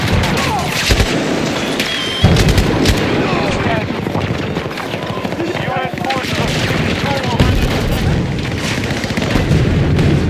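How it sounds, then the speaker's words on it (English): A grenade exploding in the video game Battlefield 2042, a loud deep boom standing out of dense, continuous battlefield gunfire and rumble, with game voices calling out over the din. "Grenade!"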